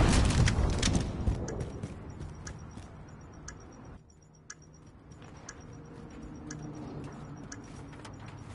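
A planted bomb in a tactical shooter game ticks steadily with evenly spaced high beeps, moderately loud over a low background rumble, with no talk.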